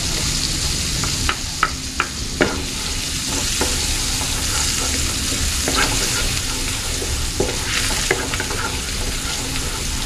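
Garlic frying in a pan, a steady dense sizzle with occasional clicks and taps of a utensil stirring it.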